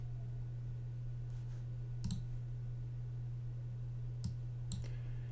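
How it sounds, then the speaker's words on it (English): A computer mouse gives three sharp, isolated clicks, one alone and then a close pair, over a steady low electrical hum in a quiet room. "So we'll right click the default."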